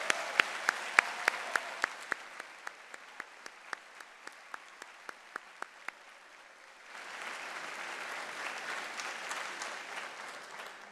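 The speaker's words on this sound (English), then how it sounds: "One last huge round of applause." Graduation convocation audience for the class of 2023 gives a round of applause: a few sharp separate claps first, then a steady wash of clapping from a crowd at moderate distance, with no talking.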